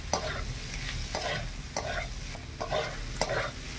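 Pond snails (gedi) sautéing in a pan, heard close as a constant frying sizzle broken by a few sharp stirring scrapes and clacks at irregular intervals, with no one speaking.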